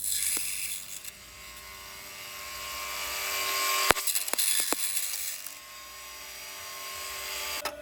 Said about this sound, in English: Now it's time to take it to the bandsaw to cut it out.